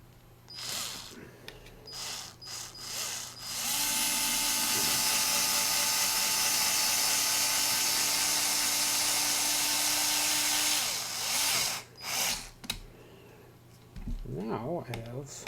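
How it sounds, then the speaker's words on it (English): A tool adapter being screwed together on a workbench, heard as a steady, loud motorized whir that runs for about seven seconds, with scattered clicks and handling noises before and after. "Just screw this together."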